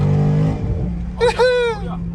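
A 2020 Dodge Charger 392 engine gives two short throttle blips in quick succession, fairly close and loud over a steady idle rumble.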